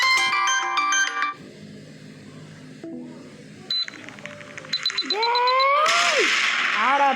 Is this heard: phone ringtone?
yes